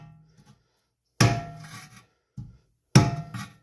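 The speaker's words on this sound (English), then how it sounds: "we're going to grab a little screwdriver here. And something I can use as a hammer because it don't take much. And we're just going to kind of tap," A small screwdriver is tapped with a makeshift hammer while restoring a 1976 Wizard tiller with a Briggs and Stratton 5 hp engine: three sharp, close knocks spaced about a second apart, each followed by a brief ringing tail.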